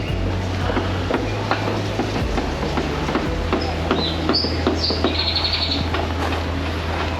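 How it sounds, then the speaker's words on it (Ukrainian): A sparrow chirps in quick, bright bursts over a loud, steady low rumble like a passing train, in Pattaya, Thailand. "Коротше, місцевий горобець."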